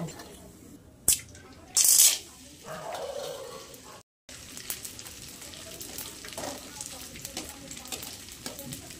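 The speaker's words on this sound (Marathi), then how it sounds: "काजू तिखट ते पण तळून घ्यायचं मस्त लाल होईपर्यंत तळून." Cashews fry in hot oil with a steady, close sizzle broken by a few sharp bursts and brief clatters of stirring, and the crackle carries on after a short gap.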